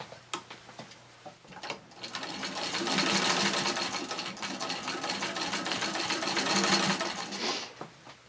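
Singer 15-91 sewing machine running a top stitch on a patchwork flat cap, a steady rapid mechanical clatter building after a few light clicks and running continuously for several seconds before stopping, close and fairly loud.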